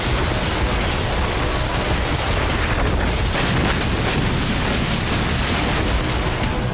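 Dense, continuous roar of explosions and artillery shelling in war footage of the Ukraine conflict, loud and sustained with no clear gaps between blasts.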